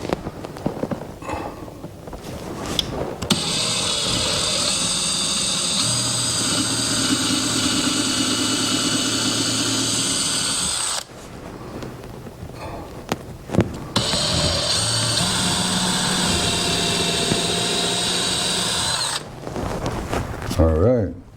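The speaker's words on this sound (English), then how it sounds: "These are my 2 hole locations. So let's get them drilled." A power drill bores two pilot holes into a wall for a TV mount: two long, steady high-pitched whining runs of roughly seven seconds each, separated by a short pause, loud and close, with brief handling noises around them.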